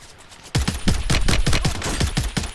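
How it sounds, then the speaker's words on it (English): Rapid bursts of automatic gunfire in the video game Call of Duty, about a dozen sharp close shots in an uneven rhythm that starts abruptly after a quiet moment, with no speech. "He shooting me from the tower?"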